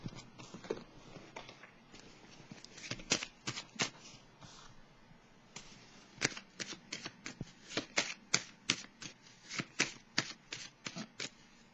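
Tarot or oracle cards being shuffled in a quiet room during a card reading, with soft riffling throughout and a run of sharp, fast flicks that grow denser and louder toward the end.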